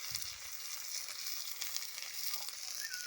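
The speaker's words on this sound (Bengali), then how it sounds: "দুটো আলু নিয়ে ভাজিয়ে দিবি" Potatoes frying in a pan, a steady, faint hiss of sizzling oil continuing evenly throughout with no voices.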